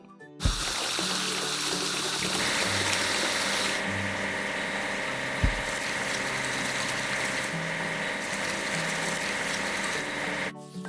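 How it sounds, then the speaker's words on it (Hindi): In a video game, a concrete mixer is washed: water sprays and splashes steadily over a constant mechanical hum and pumping drone, close and unbroken for about ten seconds, with one brief thump midway. "चलिए कंक्रीट मिक्सर को धोएं।"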